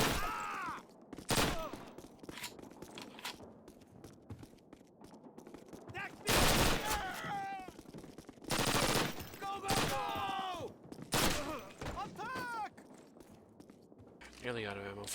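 Gunfire in a Call of Duty match, loud bursts and single cracks of automatic weapons, some close and some farther off, coming in clusters across the span with short gaps between volleys.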